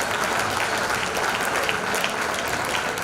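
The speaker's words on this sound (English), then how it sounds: "Let's give them all a round of applause even as you read out the names." Steady, full applause from the audience at a special school's silver jubilee celebration, honouring the year's achievers. It is continuous and even throughout, with no speech breaking through.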